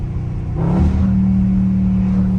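A loud Dodge Scat Pack revs hard while being driven aggressively, a deep close engine rumble swelling into a brief roaring surge then settling into a steady growl.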